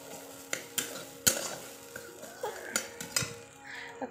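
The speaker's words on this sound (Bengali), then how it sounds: "এখন এটাকে ভালো করে আমি কষিয়ে নিচ্ছি।" Curry spices with cumin, ginger and chilli sautéed in a pan, heard as scattered clinks and scrapes of a utensil against the metal, fairly quiet with a light sizzle beneath.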